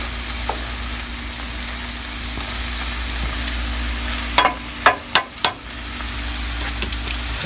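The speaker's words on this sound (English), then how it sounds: "put the bacon over here, just so it can get a little more sizzle to it" Steady frying sizzle of bacon in a pan with a low hum underneath, interrupted midway by a few sharp scraping clatters of a utensil in the pan.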